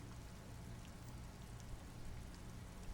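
Steady rain falls in Disco Elysium over the rooftops of Jamrock and a police precinct beside a motorway exit, a soft, even wash of drops hissing continuously with no other sounds.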